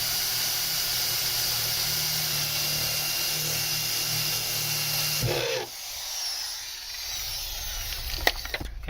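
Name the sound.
power drill drilling holes in metal floor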